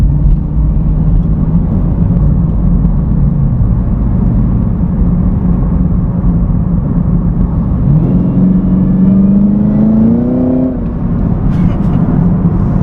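A 2018 Chevrolet Camaro ZL1 engine roars continuously up close, with a rising whine as it accelerates through the gears.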